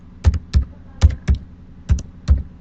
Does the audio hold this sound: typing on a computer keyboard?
yes